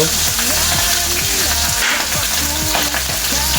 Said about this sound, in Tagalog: magpiprito muna po tayo ng isda.